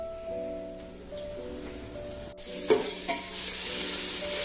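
Ginger garlic paste with salt and turmeric frying in a pan for chicken pulao, a steady close sizzle with spoon stirring scrapes, growing louder and brighter in the second half after a fresh addition hits the hot oil.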